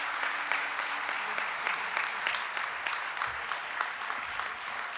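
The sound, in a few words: audience applause at inauguration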